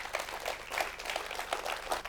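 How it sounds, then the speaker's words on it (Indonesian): An audience at a motivational talk applauds for Bu Lina, a dense, continuous patter of many hands clapping at moderate volume with no speech over it. "Tepuk tangan buat Bu Lina ya."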